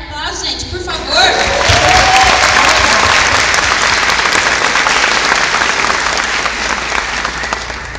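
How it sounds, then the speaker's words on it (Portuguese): At a 2012 graduation ceremony, an audience breaks into loud, sustained applause after a brief moment of speech, with crowd noise mixed into the clapping. "Um aplauso, gente, por favor!"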